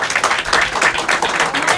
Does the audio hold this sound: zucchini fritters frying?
no